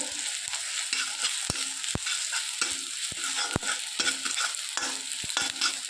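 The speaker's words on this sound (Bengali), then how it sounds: "পেঁয়াজ আর লঙ্কাটাও ভাজা হয়ে গেছে" Onion and green chili fry in a pan, a continuous soft sizzle broken by regular spatula taps and stirring clicks against the pan, heard alone without voices.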